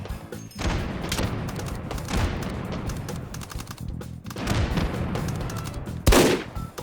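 Rapid gunfire in the VR shooter game H3VR during a Meat Fortress match with team-based action, bursts of dense automatic fire with a heavy boom near the end, loud and close, no voices.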